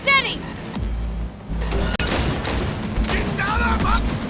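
Gunfire and explosive booms in the video game Cyberpunk 2077 during a car chase shootout, loud bursts and impacts mixed with shouting voices and a driving engine rumble.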